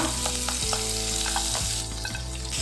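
Sliced onion frying in butter in a pan, a steady close sizzle with light stirring scrapes, continuous and even with no voices.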